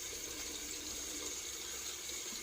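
Tap water runs steadily from a bathroom faucet into a sink during a cold water shave, a constant close hiss with no talking.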